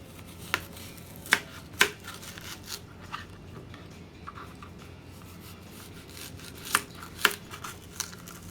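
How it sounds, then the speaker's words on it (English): Knife strikes a cutting board as an onion is chopped into fine little cubes, a few sharp close taps scattered irregularly over quiet background, no talking. "And then I'm just going to chop them up sideways like this into fine little cubes."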